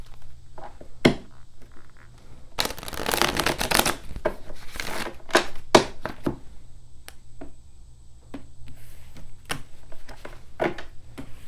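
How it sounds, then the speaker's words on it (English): A deck of tarot cards is shuffled by hand in a quiet room: scattered single card snaps, then a dense riffling burst lasting about two seconds, followed by further bursts and light taps. There is no talking. "One more shuffle."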